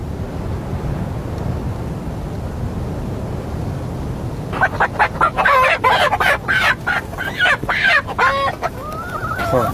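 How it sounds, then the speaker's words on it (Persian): Chickens at a Baloch nomad camp give a burst of close, choppy clucks and squawks in the second half, rising over a steady outdoor wash of wind-like noise. "خب نگاه بکن این مرغ"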